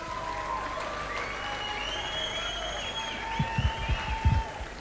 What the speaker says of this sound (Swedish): Ge honom en applåd!